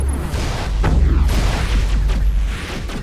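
Video game gunfire in Mass Effect Legendary Edition, a heavy rumbling burst of rapid booming shots with deep low-end thumps, dense and loud for about three seconds with no talk.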